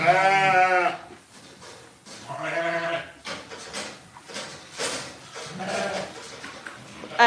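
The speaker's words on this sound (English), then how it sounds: "You can see how excited all the sheep get." A flock of farm sheep bleats excitedly at feeding time, loud overlapping calls in repeated bursts close by, some shrill and wavering.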